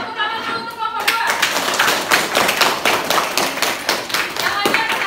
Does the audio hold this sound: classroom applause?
yes